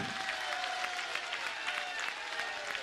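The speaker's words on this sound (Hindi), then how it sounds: "ये तालियां, ये सब तालियां, ये बात का इंगित है" Audience applause at a spiritual question-and-answer gathering, a thick, steady roar of many hands clapping together, loud and continuous from start to finish.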